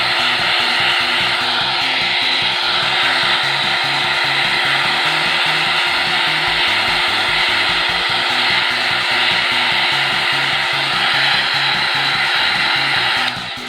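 A heat gun blows a constant, loud whirring rush as it warms a Worbla thermoplastic sheet, running unbroken close by and cutting off just at the end.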